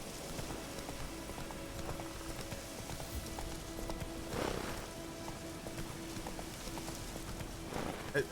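Roach the horse gallops in The Witcher 3, a steady run of hoof clip-clops over a low game ambience with faint rain-like texture, no one speaking.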